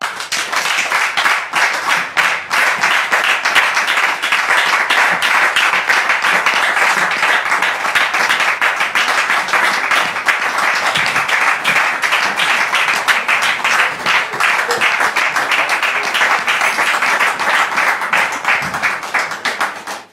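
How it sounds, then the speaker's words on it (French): A studio audience on a TV talk show gives sustained, loud applause as a guest is welcomed. The dense clapping continues evenly for about twenty seconds with no talk over it. "nous allons recevoir Monsieur Cédric sous vos applaudissements, s'il vous plaît."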